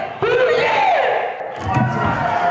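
A wrestling show crowd roars and shouts together in a loud, sustained cheer that briefly dips and then surges again.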